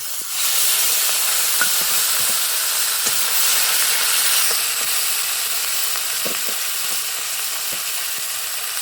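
Ginger-garlic paste, onion and spices hit a hot pan for a pumpkin and snail curry, giving a loud, steady, close sizzle and hiss throughout with faint scattered crackles and no voices.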